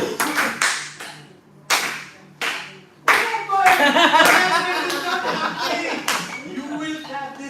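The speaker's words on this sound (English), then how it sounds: "Now we clap from the beginning." Group clapping in a counted rhythm during a lecture on forms of music, with sharp sparse claps at first and then denser unison clapping, with chuckles and voices mixed in.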